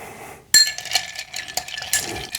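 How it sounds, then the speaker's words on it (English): A bar spoon stirs a martini over ice in a mixing glass, with a bright clink followed by a continuous close rattle and swirl of ice against glass. "And of course, we stir our martinis"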